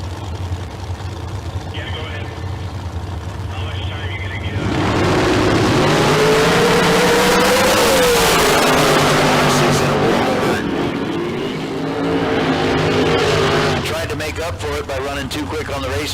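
An Idaho dragster makes a run at Tucson Dragway in bracket racing; a low idle and announcer's voice give way to a loud, sustained engine roar with rising pitch, easing off before a final burst near the end.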